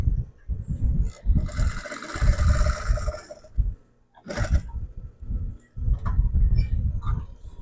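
A sewing machine test run after thread tension adjustment, with bursts of rapid mechanical clatter and whirring stitching, stopping and restarting several times, close and fairly loud.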